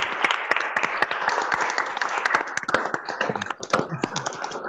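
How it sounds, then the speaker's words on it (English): A scattered round of clapping comes through a virtual scholarship awards launch, uneven sharp claps from a few participants over a video call, with faint voices underneath. "please unmute so we can give another round of applause"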